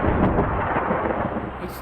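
Simulated rain and thunder in the driving game Bus Simulator India form a loud, steady downpour hiss with a deep rolling rumble underneath that fades slightly toward the end.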